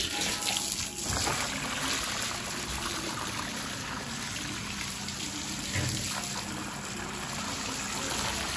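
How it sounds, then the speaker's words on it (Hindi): Water pouring steadily into a clay pot, a continuous trickling gush that stays fairly even throughout, with no voices. "मटके के अंदर पानी भर देते हैं"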